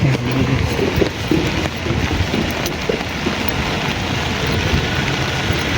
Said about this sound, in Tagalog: Umuulan na naman sa Baguio.